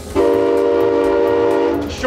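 A real locomotive's whistle blown as one long, loud sustained blast that ends abruptly, with a brief rustle after it.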